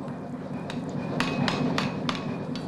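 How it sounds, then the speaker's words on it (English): A blacksmith hammers a red-hot iron poker on an anvil, five or six sharp metallic strikes at an even pace, close and loud over a steady workshop hum. "he's bringing it to the anvil now to straighten with the hammer"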